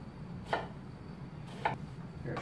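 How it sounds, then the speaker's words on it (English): A knife cuts peeled, seeded melon into batons, three soft, separate chops spaced about a second apart over a quiet background. "Peel off the outside, scooped out the seeds, obviously, and we're just kind of cutting it into batons, essentially."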